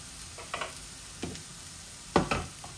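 Bitter gourd (karela) fries in an uncovered pan with a soft background sizzle, punctuated by a few louder scraping stirs of a spatula.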